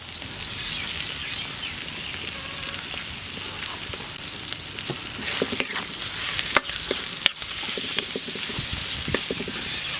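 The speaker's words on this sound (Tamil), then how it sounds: "அப்படியே நல்லா பிரட்டி விட்டுக்கலாம்" Mutton liver fry being stirred in a pan, village style: a steady close sizzle with scattered spatula scrapes and clacks that grow busier and louder toward the end.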